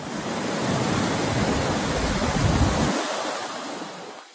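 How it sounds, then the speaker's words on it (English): Massive 30-foot storm waves pound the shoreline at Stonehaven, Scotland, amid fierce winds: a loud, continuous roar of surf and rushing water that swells and then eases slightly toward the end, with no voices. "fierce winds and massive 30-foot waves pounded shoreline communities like Stonehaven"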